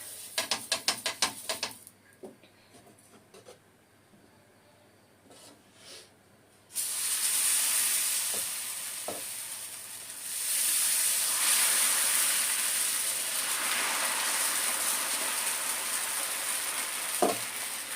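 Dosa batter made with black urad dal hisses and sizzles on a hot pan, a loud steady frying wash that swells after a few quiet clicks and taps, with no talking.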